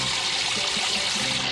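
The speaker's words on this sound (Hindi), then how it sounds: "पानी आ गया, पानी बाहर निकल रहा है।" Water gushing out in a Doraemon cartoon scene: a brief, loud, steady rush of pouring water, continuous and close, with no talk over it.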